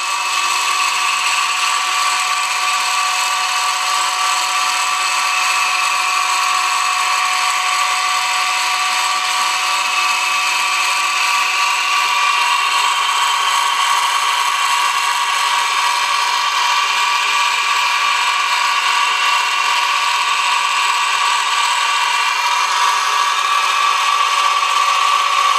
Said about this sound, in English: I can use my ball end mill now and go inside there